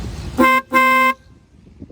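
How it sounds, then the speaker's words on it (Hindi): Two honks from a cheap Chinese replacement horn fitted to a Daihatsu Cuore, a short blast followed by a longer one, loud and close with a bright buzzy tone over a low background rumble. "ओरिजिनल हॉर्न तो नहीं चाइना वाली है"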